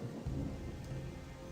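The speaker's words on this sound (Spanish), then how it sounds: "Yo cada vez que empieza así a llover me da una mala espina." Rain falls steadily with low rumbling thunder in the fantasy video game Gothic 2, a soft, even wash of rainfall under a faint distant rolling boom, quiet overall and with no voices.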